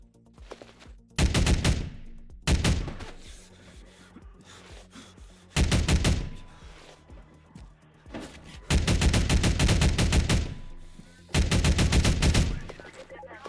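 Bursts of automatic gunfire from an enemy in a Half-Life inspired shooter game, loud and close, coming in five or six rapid volleys of a second or more with short gaps between them.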